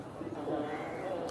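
Pigeons cooing at a large outdoor pigeon market in Khalishpur, Khulna, soft low coos layered over a busy background murmur.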